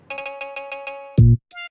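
A short synthesized melody from Luigi's Mansion, bright, bell-like repeated notes, followed by a low buzzy tone and a final chime, like retro game music.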